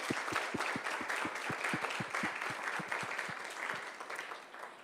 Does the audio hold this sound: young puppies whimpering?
no